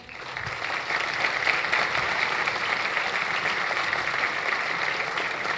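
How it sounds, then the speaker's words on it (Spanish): A room of listeners applauds after a talk on databases for developers: full, steady clapping that swells in quickly and holds at an even level without speech. "un gran aplauso."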